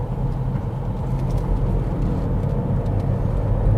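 Steady engine and road rumble from inside a car braking and dropping to second gear on a narrow, fast country road, a constant low drone with no talk over it.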